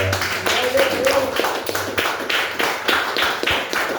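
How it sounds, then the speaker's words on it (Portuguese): Rhythmic hand clapping from a church congregation during a Wednesday worship service, steady and fairly loud, with voices and a low musical tone underneath. "aplaude a Jesus que Ele é"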